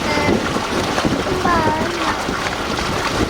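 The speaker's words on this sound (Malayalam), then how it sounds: "ആ ചാലിലേക്ക് തിരിച്ച് കയറാൻ പോവാണ് ബോട്ട്" A houseboat cruises the Kumarakom backwaters, its steady engine and water noise rumbling throughout, with gusty wind buffeting the microphone and people talking over it.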